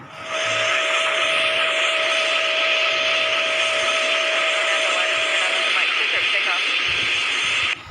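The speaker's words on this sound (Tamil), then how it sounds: "இப்போது நம்ம ஃப்ளாப்பை வந்து மறுபடியும் மேலே தூக்கிடலாம். அதே தான் சவுண்ட் வரும்." Aircraft flaps retracting in a flight simulator game, a loud steady whirring hum with a sustained tonal whine that runs unbroken for several seconds.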